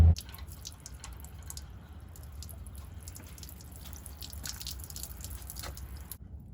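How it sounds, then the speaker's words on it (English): Water flushing metal chips out of a freshly rethreaded hole on a Ford 1910 tractor, a steady close dripping and trickling that runs for several seconds and then stops abruptly. "Let's flush those metal chips out."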